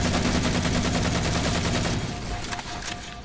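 Rapid rifle fire in the video game Halo 4, a dense, steady automatic burst that runs loud and close for about two seconds, then thins into scattered shots.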